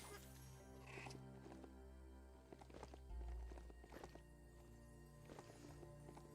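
A horse in Biomutant clip-clops along at a walk, hoof thuds landing in an uneven rhythm over a low droning backdrop, with a brief whinny early on.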